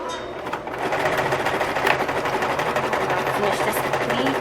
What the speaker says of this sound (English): I'm just gonna go back over the stitch so I can secure it.